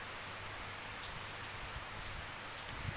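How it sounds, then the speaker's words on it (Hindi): Heavy rain falling on a rainy day, a steady dense hiss of countless drops with faint patters on surfaces, constant and moderately close, nobody speaking. "देखो कितनी बारिश हो रही है।"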